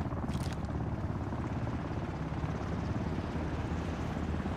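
A helicopter in the video game Ring of Elysium gives off a steady, dense rotor and engine roar that holds at an even, moderately loud level throughout, with no talking.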